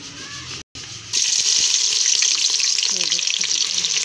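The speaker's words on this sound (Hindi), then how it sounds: "घी गर्म हो चुका, अब इसमें प्याज डाल देंगे" Finely chopped onion dropped into hot ghee, bursting into a loud, steady sizzle after a brief quieter moment with a short clatter, and frying on continuously to the end.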